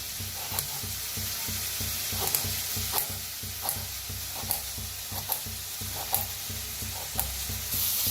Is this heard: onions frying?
yes